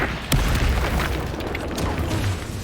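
A Confringo fire spell bursts in Hogwarts Legacy, a loud booming blast with a sharp onset near the start, then a rumbling, crackling low roar that holds steady through the rest.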